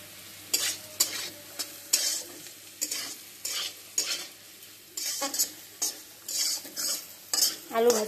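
Potatoes frying in a pan while a spatula stirs them, repeated scraping strokes in an irregular rhythm over a soft sizzle, close by with no talk.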